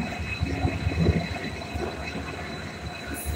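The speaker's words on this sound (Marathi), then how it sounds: "आवाज येतोय ट्रेनचा." A train passing nearby, a continuous low rumble with rhythmic wheel clatter and a faint steady whine, moderately loud and unbroken throughout.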